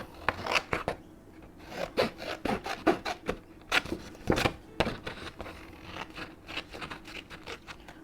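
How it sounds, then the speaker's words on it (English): Scissors cutting loosely around small paper pieces for a craft page, a close, quiet series of short snipping and rustling strokes in uneven rhythm with brief pauses, no voices. "I will just, fairly loosely cut around these little bits that are popping up"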